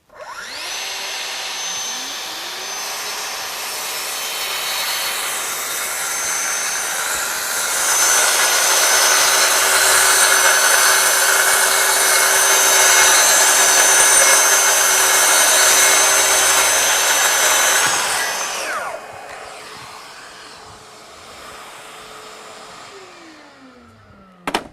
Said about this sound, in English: 28 tooth blade, so I get a nice quick cut with the saw